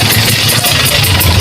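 Trail motorcycles idle nearby in a loud, steady, pulsing engine rumble that lasts only a moment.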